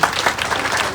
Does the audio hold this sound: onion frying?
no